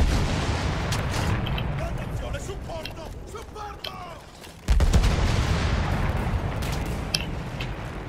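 Gunfire and booming blasts in the World War I shooter game Battlefield 1 roll on continuously and loudly, with a sharp jump in intensity midway, while players talk over the battle.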